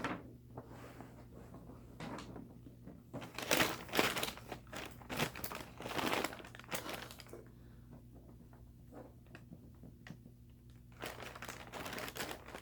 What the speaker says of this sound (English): Lulu's decided that the pile of paper is going to be her bed while I wrap this gift.